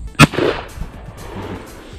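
A shotgun fires once at a clay target on an outdoor clay shoot, one loud sharp close blast followed by a brief rumbling echo and low background noise.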